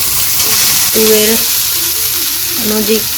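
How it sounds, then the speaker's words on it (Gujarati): Mustard seeds crackle in hot oil in a home kitchen, a loud, steady broadband sizzle with a voice talking briefly underneath. "તેલ ગરમ થાય, રઈ સંતળાઈ જાય"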